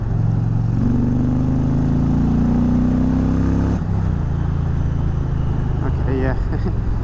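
An Indian Challenger Dark Horse bagger motorcycle pulling hard in third gear: a loud, steady engine drone rising in pitch, then a shift with the tone dropping, all heavily mixed with road and wind roar.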